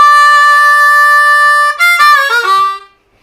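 A solo blues harmonica lick on a C harmonica: a long held 4-draw bend, then a quick run of shorter wavering notes that fades out.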